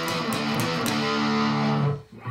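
A distorted electric guitar plays a continuous, droning riff with notes running into each other, no pauses, ending abruptly.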